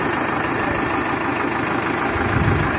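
A Euro 60 tractor engine idles nearby, a loud, steady, low rumbling drone with an even knocking pulse and no voices.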